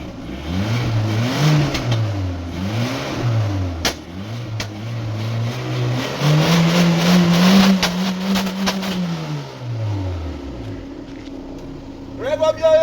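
A car engine with a blue-smoke oil-burning problem revs repeatedly during an oil flush, rising and falling in strong close surges before settling, with people talking nearby.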